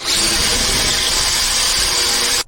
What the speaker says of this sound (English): I'm going to use a hole saw to create a bunch of holes in the plywood for ventilation